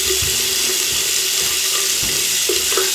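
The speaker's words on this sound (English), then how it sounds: "You can see we got the water running in the bathroom sink." Water runs steadily from the tap into a bathroom sink during work on a clogged bathtub drain. A constant close hiss and splash continues without a break, with a few small gurgles and no voices.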